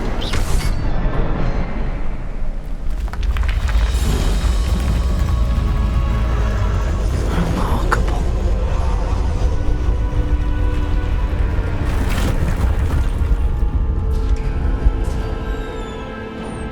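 The Incendio fire spell cast in Hogwarts Legacy, a loud, sustained roaring burst of flame with rumbling game sound throughout and a fade at the close.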